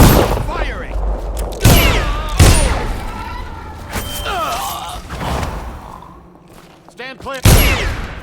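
Gunfire and booming blasts in the stealth video game Dishonored, several loud bursts punctuating shouting guard voices and combat noise throughout.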